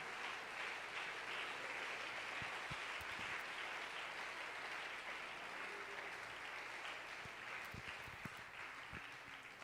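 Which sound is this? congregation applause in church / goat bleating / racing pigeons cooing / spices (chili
congregation applause in church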